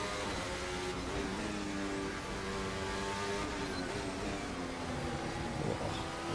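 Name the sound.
2026 F1 race car engine in video game Assetto Corsa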